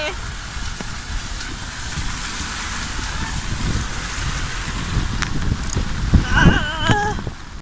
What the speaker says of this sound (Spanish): Se puso a llover súper fuerte.